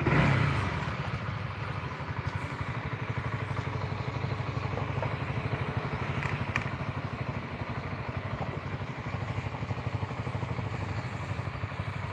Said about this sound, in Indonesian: suara mesinnya bisa didengar sama teman-teman